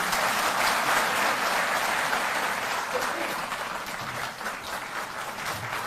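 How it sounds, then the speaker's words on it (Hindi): Sustained audience applause at a Delhi Jal Board event where contract workers were made permanent; steady dense clapping throughout, slightly easing toward the end, with faint talk underneath. "तालियां बजती रहें।"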